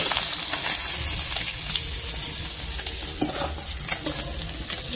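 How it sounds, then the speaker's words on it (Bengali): Koi fish (climbing perch) sizzles loudly in hot oil, a dense crackling hiss up close, with occasional clinks and scrapes as it is turned. "মাছটা হালকা করে ভেজে তুলে দিচ্ছি।"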